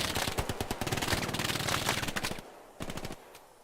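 Rapid automatic gunfire in Hell Let Loose during an 18-versus-18 tournament match, a dense loud rattle of shots that cuts off sharply, followed by a short second burst.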